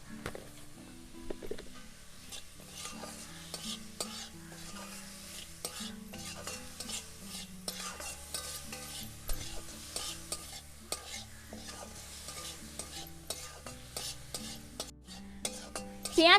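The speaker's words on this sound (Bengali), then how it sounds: "পেঁয়াজ টমেটোটা আমরা কিছুক্ষণ ভালো করে নেড়ে চেড়ে কষে নেব।" Onion and tomato being stirred and fried in a pan with salt for a tomato-onion pulao, a steady background sizzle with frequent scraping and clinking of a spatula against the pan throughout.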